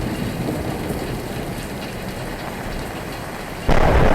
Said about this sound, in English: Flipping hell, thunder, lightning, everything.